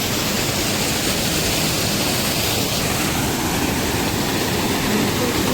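Steady, loud rush of water pouring out of a tank, a continuous broadband roar with no pauses, close by.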